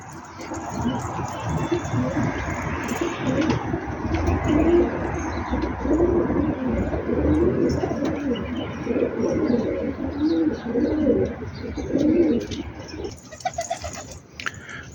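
A crowd of newly released pigeons coos continuously and fairly close by, low rolling calls overlapping one another with occasional chirps, throughout and without talk.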